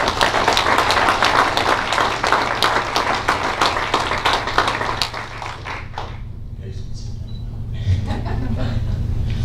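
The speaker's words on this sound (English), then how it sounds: "Let's give them all a big round of applause." Applause for awardees at a high school award ceremony: a big round of dense clapping from the audience that fades out partway through, followed by a low hum and quiet room sound.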